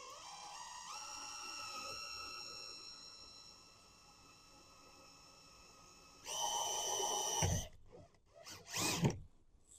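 A power drill whirs steadily for several seconds, drilling a hole to fit a door panel on a Chevy/GMC Squarebody truck, then a louder, harsher burst of drilling follows, with a few short bursts after it.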